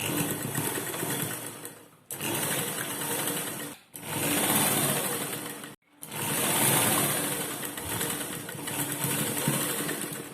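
A sewing machine runs in three long bursts with short pauses between them, loud and close, while stitching a lined jacket sleeve.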